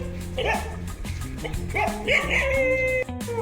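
A dog greets arrivals at a house door with a burst of excited yips, barks and whining howls, close and lively, several sharp calls in quick succession.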